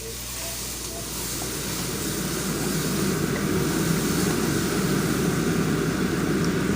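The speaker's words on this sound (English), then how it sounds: "Gonna turn on the fan a little bit." A kitchen exhaust fan runs at a steady, fairly loud level as gumbo cooks, a broad constant rushing hiss that swells slightly after the first second and then holds even, with no talk over it.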